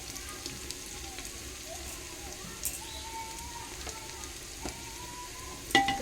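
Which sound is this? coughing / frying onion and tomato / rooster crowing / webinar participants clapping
frying onion and tomato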